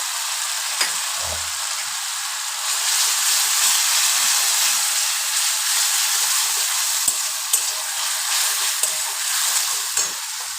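A masala of chilli paste and tomato puree fries in a pan, sizzling with a steady, loud, bright hiss and occasional crackles and stirring scrapes.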